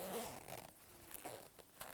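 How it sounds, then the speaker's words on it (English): A beekeeper's protective suit being zipped up during honey harvesting in Uganda's Karamoja region, heard as a short, close rasping zip run of about two seconds. "Then you zip up well,"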